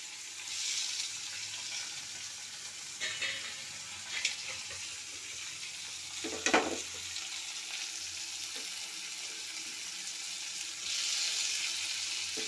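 Onions frying in oil with pepper and cumin, a steady hiss of sizzling that runs throughout, with a few louder crackles and pops rising over it.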